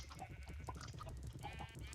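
Faint, quiet bleating of several Minecraft sheep, overlapping blocky baas repeating irregularly over a low background hum.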